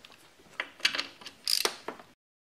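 A ratchet wrench works on bolts of a 3800 engine, a few quick faint metallic clicking bursts close by, spaced irregularly over about two seconds.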